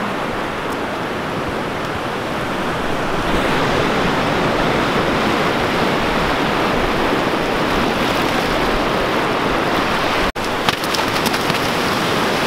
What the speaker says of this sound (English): Stop splashing, please.